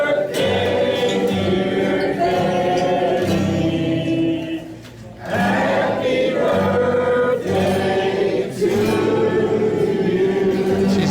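A bar crowd in Mount Airy, North Carolina: many voices sing together loudly in a lively, echoing room, a dense group chorus with a brief dip before the singing swells again.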